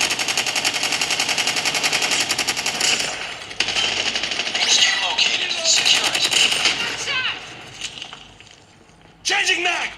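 Rapid video game gunfire plays through the speakers of an Asus ROG Phone 3, with dense bursts of automatic shots, clinking effects and game voices in a busy, continuous mix.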